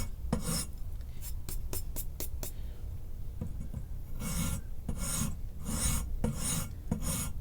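A file rasps back and forth across a guitar nut during a build, with quick strokes early on, then longer, louder broadband passes in a steady rhythm, close and alone with no talk.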